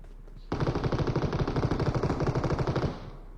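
Rapid automatic gunfire in a video game aimed at a car, one sustained burst of about two and a half seconds with a steady rattling rhythm, loud and close, with no talk over it.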